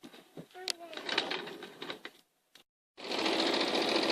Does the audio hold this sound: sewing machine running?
yes